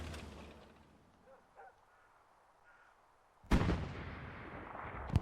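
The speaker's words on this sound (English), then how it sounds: "Oh, we've already got gunfire happening." A quiet stretch of ambient rumble gives way to a sudden loud gunfire blast from a Sherman tank battle in a video game, followed by a lingering rumbling tail.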